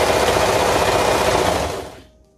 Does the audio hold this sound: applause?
no